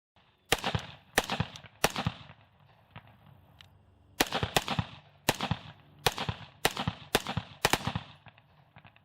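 A rifle built with a DLC bolt carrier group and a billet upper fires a string of sharp, loud gunshots outdoors, first three spaced shots, then a pause, then a quicker run of about seven more, each cracking and fading quickly.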